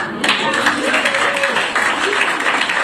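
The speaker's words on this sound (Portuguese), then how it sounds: "E o pessoal aplaudindo ali" A crowd at a political speech by the American president breaks into steady, dense applause, heard as replayed audio, loud and continuous for a few seconds.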